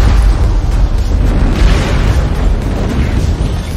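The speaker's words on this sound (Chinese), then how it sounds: "还使出了鹰眼的绝活跳跳火箭弹，" A bouncing rocket attack fired from an armored vehicle explodes in an action scene from the Marvel film Black Widow, producing a loud, sustained boom with a dense rumbling roar that fills the whole clip.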